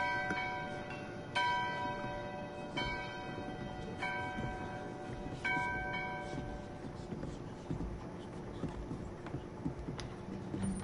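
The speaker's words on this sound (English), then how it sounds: "All the villagers going to the chapel when the bell rings." A church bell tolls slowly in Diablo IV, about seven loud strikes at steady intervals, each ringing out, over a low rumbling game ambience.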